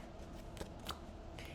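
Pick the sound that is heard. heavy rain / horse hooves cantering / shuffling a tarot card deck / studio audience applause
shuffling a tarot card deck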